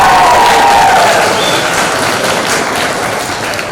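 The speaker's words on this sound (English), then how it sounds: "Can we just give a round of applause to our parents and families?" An orientation crowd of parents and families applauds loudly and steadily, a thick wash of clapping with some cheering that holds without a break throughout.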